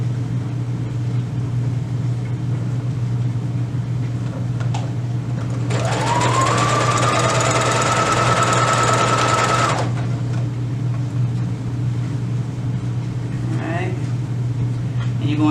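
A sewing machine runs in one steady burst of several seconds, stitching the outer layers of a knit beanie, its motor whirring at even speed against a constant low background hum before stopping.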